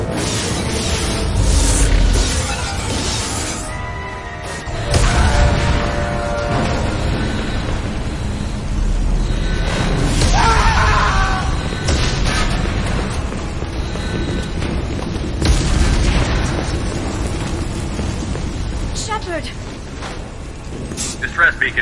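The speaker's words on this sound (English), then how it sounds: "Multiple hull breaches! Weapons offline!" Explosions and fire rip through a starship in the video game Mass Effect 2, with repeated deep booms and rumbling blasts under frequent urgent voices shouting over the chaos.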